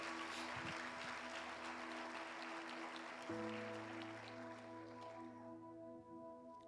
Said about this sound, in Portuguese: Pode aplaudir que é para Jesus mesmo,